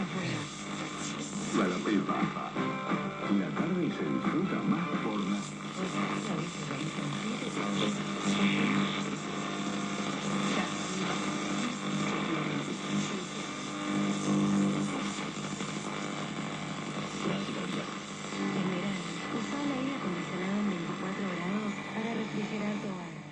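An old radio receiver, restored with a new back cover and dial lights, gives off steady broadband hiss and hum with fluctuating tonal noise, continuous and fairly loud for the whole stretch.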